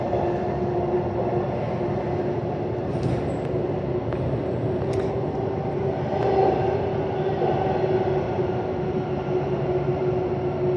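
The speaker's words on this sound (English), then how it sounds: "There's the Mandurah train going into that tunnel." A steady, loud rumble and roar of a Mandurah line train moving through an enclosed tunnel in Perth, with faint squeals and clanks above it, no talking.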